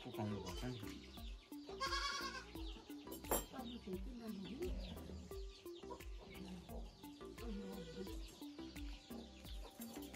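Goats bleating intermittently among clucking chickens, with people talking nearby; repeated faint clicking ticks run throughout, overall quiet and distant.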